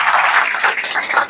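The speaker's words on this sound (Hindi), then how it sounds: "बहुत जोरदार तालियां" Loud, dense clapping from a seminar audience in Amroha, a continuous wash of many hands at close range, steady from start to finish with no voices over it.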